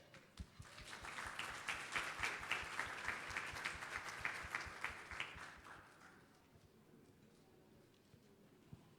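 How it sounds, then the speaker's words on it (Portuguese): An audience at a judicial panel session gives a steady round of crisp, rhythmic clapping for several seconds, then tapers off into near quiet. "Senhoras e senhores, mais uma salva de palmas"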